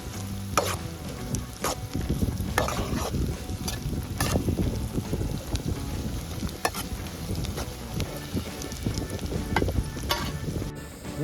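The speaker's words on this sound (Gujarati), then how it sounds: "એમાં સડવા દેવું આદુ ને મરચાં ને ડુંગળી થોડાક 65 મિનિટ" Onion, ginger and green chili sauté in a pan with steady sizzling frying and repeated scraping stirs of a spoon, close and continuous throughout.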